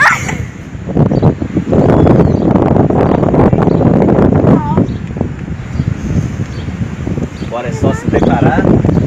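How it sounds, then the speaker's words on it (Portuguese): Warm wind at the beach buffets the microphone in loud, continuous rumbling gusts, with voices talking through the noise. "O vento tá quente."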